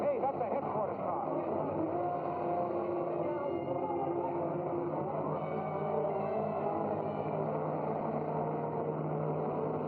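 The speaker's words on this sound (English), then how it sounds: "Runaway car, Sergeant Pattis is on it." A runaway headquarters car, its driver knocked out and snagged on the accelerator, roars with a steady, unbroken engine drone that stays loud and close throughout, with voices faintly present beneath it.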